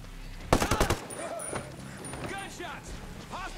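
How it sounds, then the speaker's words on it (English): Rapid burst of video game gunfire near the start, several sharp shots in quick succession, followed by quieter game sounds and a voice talking. "Gunshots."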